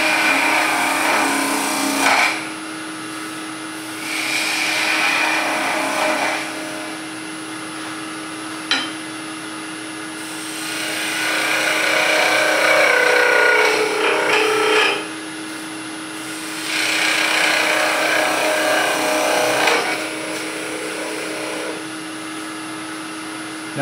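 A wood lathe turns a kuksa cup while a tool cuts down its shoulder, with several long bursts of rough cutting rising over a steady motor hum.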